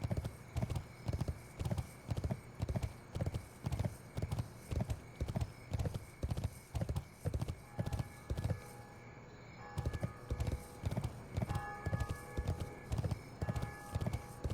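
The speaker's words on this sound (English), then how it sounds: "Why does the horse make noise?" Horse hooves clip-clop in a steady, even rhythm in World of Warcraft, a close, regular walking beat with a faint hum behind it.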